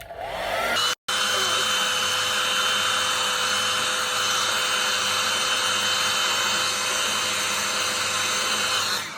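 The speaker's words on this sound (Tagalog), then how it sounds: "Mag-dry muna tayo ng hair bago plancha, guys. Mag-blower tayo, medyo maingay ito." A hair dryer blows on hair with a loud, constant whine, briefly cut out for an instant near the start, then running steadily.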